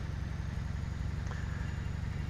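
A yellow mining vehicle with big knobby tires rolls past in Euro Truck Simulator 2, giving off a faint, steady engine drone and tire hum that stays even throughout.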